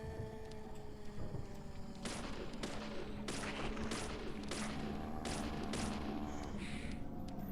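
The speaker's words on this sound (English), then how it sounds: "So now ghosts have shotguns, so that's a thing." Repeated shotgun blasts fired by ghosts in the horror video game Deadly Premonition, a series of sharp broadband bangs at irregular intervals over a steady game ambience and music bed, fairly loud and close.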